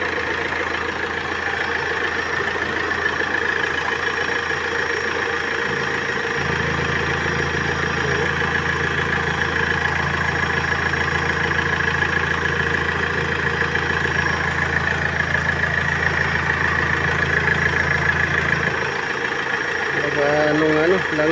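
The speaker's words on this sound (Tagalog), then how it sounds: "Lakas ng blow by dito." A car engine with strong crankcase blow-by idles steadily and close, a continuous hissing rumble with a deeper droning tone swelling through the middle.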